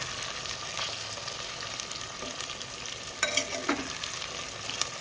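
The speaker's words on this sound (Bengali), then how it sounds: "ততক্ষণ পর্যন্ত নাড়ব যতক্ষণ পর্যন্ত সমস্ত টমেটোগুলো পুরোপুরিভাবে মেল্ট না হয়ে যাচ্ছে" A pan of tomatoes frying for a Bengali mutton curry is stirred steadily, a soft continuous sizzle with occasional scraping clicks of the spoon, close and fairly quiet, with no voices.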